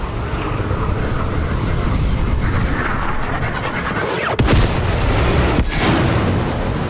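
Dense, continuous roar of artillery guns firing in the video game Sniper Elite 5, with repeated booming blasts, loud and close, and a sharp crack midway through.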